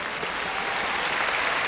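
A sumo crowd at the Nagoya tournament claps steadily at the end of the day's bouts, a dense, even wash of applause filling the hall without a break.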